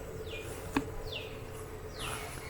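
Honeybees in an opened beehive box, a soft continuous buzz with several passing, swooping whines of individual bees flying close, plus one brief knock.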